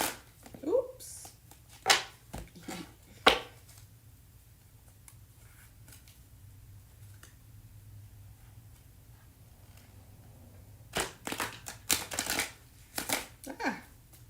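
Stiff, long-used tarot cards are shuffled by hand in quick riffling bursts, sharp papery snaps near the start and again toward the end with a quieter stretch in between.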